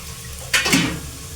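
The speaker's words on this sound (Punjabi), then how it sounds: "ਹੁਣ ਇਹਦੇ ਵਿੱਚ ਥੋੜਾ ਜਿਹਾ ਆਪਾਂ ਪਾਣੀ ਪਾ ਕੇ ਇੱਕ ਕੱਪ" A cup of water is poured into a cooking pan of potato and cauliflower curry, making a short, hissing splash that lasts under half a second against a quiet kitchen background.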